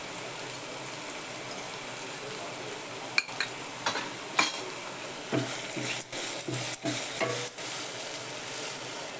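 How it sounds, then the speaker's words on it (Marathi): Cumin and mustard seeds sizzle steadily in hot oil while a spoon stirs and clinks against the pan in scattered sharp taps. "जिरं मोहरी घातली।"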